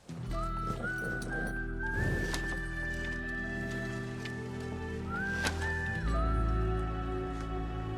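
Horse hooves clip-clop in a scene from an action film, mixed under sustained tonal music and background sound, with no clear separate steps standing out.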